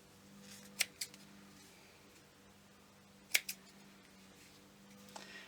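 Scissors snipping through yarn ends, two quick double snips a few seconds apart, crisp and close in a quiet room, with a faint later click.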